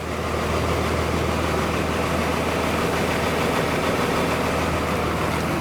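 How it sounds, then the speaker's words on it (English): A 2002 school bus engine idles with a steady, low, rumbling drone that holds even and continuous from start to end. No voices are heard over it. "Engine sounds good."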